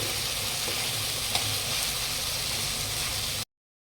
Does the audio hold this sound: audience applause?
no